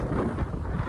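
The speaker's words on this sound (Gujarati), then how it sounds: "પવન એવો આવે છે" Strong wind buffeting the microphone, a steady loud low roar with no other sounds.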